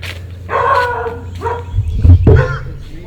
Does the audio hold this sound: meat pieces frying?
no